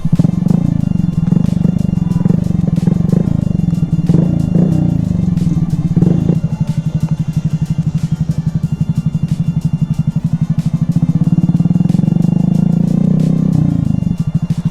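A Honda Grom motorcycle pulls up outside a toy shop and settles to a steady, loud idle with a throaty rapid putter, close by, with faint clicks and light clatter over the engine throughout.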